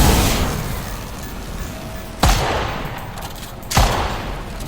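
Fortnite gunfire as two sharp shots a second and a half apart over a steady background of game ambience, with no talking.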